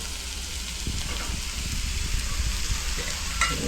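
Bitter gourd and egg frying in a pan over the gas, with a steady sizzle and crackle and occasional soft pops, close and continuous, no voices.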